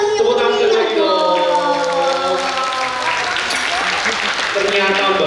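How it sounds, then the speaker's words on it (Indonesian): An audience applauds after a school drama performance at a language festival, a loud, dense, sustained wash of clapping mixed with cheering voices that fills the whole stretch. "Tepuk tangan meriah lagi dong."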